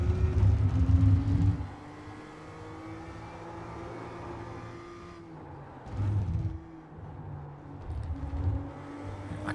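A BMW M2 CS on the Navarra Speed Circuit in iRacing revs hard, then the engine note drops as it downshifts into second gear, with loud surges at the start and again near the end around steadier mid-level engine drone.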